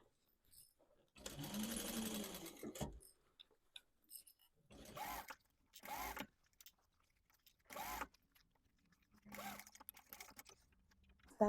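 A sewing machine stitches a denim tote bag made from old jeans, running in several short, close bursts: one longer run first, then four brief spurts separated by pauses.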